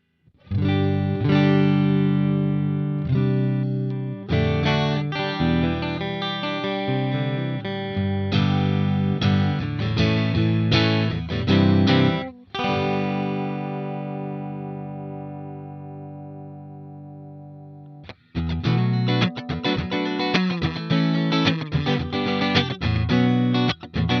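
A clean electric guitar tone from a Quad Cortex amp modeler, with added reverb, plays chords and picked notes in phrases with brief pauses and ringing sustains, loud and close.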